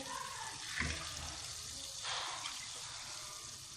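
A cup of water poured into a cooking pot while making Chitrali pea and moong dal, a soft continuous splashing trickle under steady background hiss, fairly quiet and close.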